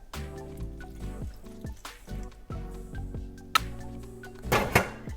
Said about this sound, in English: I'm going to add half a cup of water.